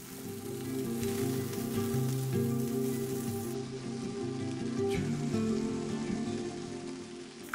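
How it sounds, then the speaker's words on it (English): Red onions sautéing in chili oil in a pan, a steady close sizzle and crackle throughout, with a faint music bed underneath and no talking. "2 tablespoons chili oil. Red onions. Saute for 1 to 2 minutes."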